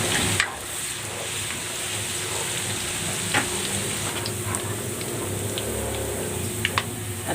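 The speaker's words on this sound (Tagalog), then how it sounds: "Igigisa ko na tong bawang." Garlic sautés in a generous amount of cooking oil, giving a steady, close sizzle with occasional small pops and light stirring clicks on top.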